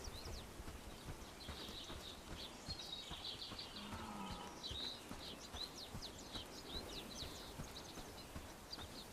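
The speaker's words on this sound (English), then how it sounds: "You're hearing the coconut clapping horses like Monty Python." Horse hooves clip-clop in the medieval survival game Bellwright, a quiet, steady run of light knocking steps under faint birdsong and outdoor ambience, with no voices.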